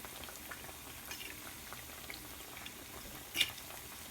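Plantain coated in flour and water fries in a pan with a faint, steady sizzle and bubbling, broken by one brief louder pop.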